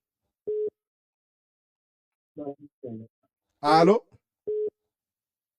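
A telephone busy signal after a dropped call gives short, evenly spaced tones, with a voice answering into the line between them.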